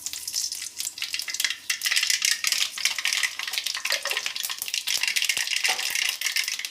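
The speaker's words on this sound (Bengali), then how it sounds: "আমি এখন পাঁচফোড়নটা তেলের মধ্যে দিচ্ছি।" Panch phoron spices hit hot oil in a wok and crackle, a dense continuous sizzle with scattered pops and a faint clink of a utensil, close and steady with no voices.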